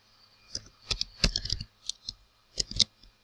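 Typing on a computer keyboard while writing Bootstrap button code, with irregular bursts of crisp key clicks separated by short pauses, close and fairly quiet.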